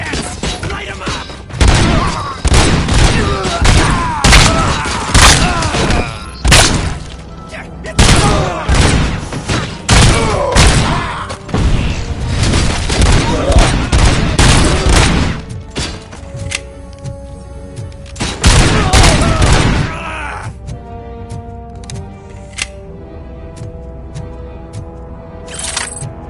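Heavy gunfire erupts in the RoboCop: Rogue City game, with rapid bursts and booming impacts packed into loud stretches separated by brief lulls. The firing trails off near the end, where only sparse clicks and tones remain.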